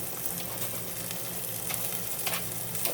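A utensil stirring a pork chop pot roast in a hot pan, soft scraping and stirring over a steady sizzle, close and fairly quiet with no talk.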